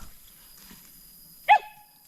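A dog barking at a snake gives a single short, sharp bark partway through, heard at moderate distance against otherwise quiet surroundings.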